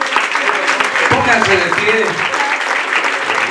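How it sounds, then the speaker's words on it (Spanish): Applause from wedding guests in a church ceremony, a steady broadband clatter of clapping running throughout, mixed under a voice speaking over it. "Démosles un aplauso."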